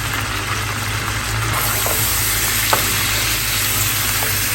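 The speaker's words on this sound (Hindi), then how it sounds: "इसको 2-3 मिनट भून लें ताकि मसाले का कच्चापन थोड़ा सा निकल जाए।" Chicken fries in ginger garlic paste with masala, giving a steady close sizzle with a few faint stirring clicks and a low hum beneath it throughout.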